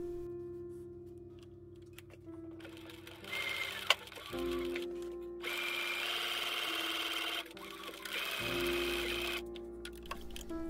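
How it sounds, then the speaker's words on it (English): Sewing machine stitching sleeve seams on a vintage-style 1944 dress, quiet bursts of rapid mechanical whirring with short pauses between runs and a single click, heard close and alone. "I pinned together the sleeve seams and stitched them in place"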